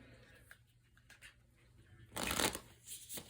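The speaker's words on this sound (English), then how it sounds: "So I'll go ahead and start shuffling." Tarot cards riffle close by in a quick burst of shuffling, with softer handling sounds before and after, quiet overall.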